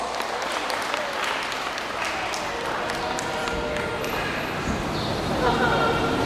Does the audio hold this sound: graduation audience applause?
yes